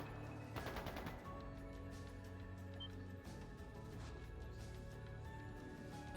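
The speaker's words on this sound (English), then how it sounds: "That sounded like gunfire." Rapid bursts of gunfire in the video game Trails of Cold Steel II, a quick crackling volley early on, then scattered shots over a continuous game soundtrack, fairly quiet overall.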